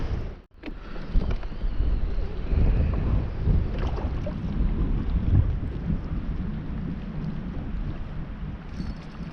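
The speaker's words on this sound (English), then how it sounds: "I thought the wind was starting to calm down a little bit." Steady, heavy wind buffeting a boat and microphone while fishing for walleye, pike and smallmouth on West Hawk Lake, a continuous low roar with gusting swells throughout and a brief dip near the start.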